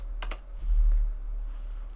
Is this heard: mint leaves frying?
no